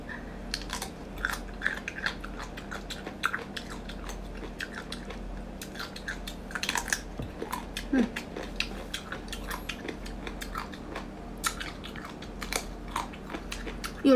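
Crunchy seafood such as abalone, crab or lobster being bitten and chewed up close, with dense crackling bites and wet chewing repeating steadily for the whole stretch, plus faint clinks of cutlery or dishes.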